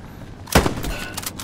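Single gunshot in the World War II shooter Hell Let Loose, a sharp loud crack at mid-clip followed by a short fading tail over quiet game ambience.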